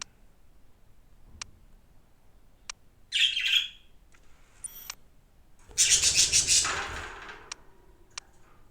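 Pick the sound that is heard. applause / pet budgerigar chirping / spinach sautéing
pet budgerigar chirping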